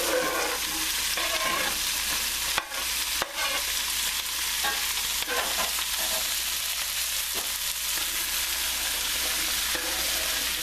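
Vegetables sweating with okra in a 6 or 8 quart skillet on a stove, a steady close sizzle and hiss with occasional stirring scrapes and a couple of brief thuds, no talk.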